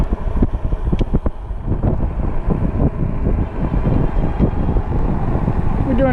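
Heavy wind buffeting roars over the microphone of an e-bike ridden at about 24 mph into a headwind on a throttle-only range test, loud and continuous with gusty thumps throughout.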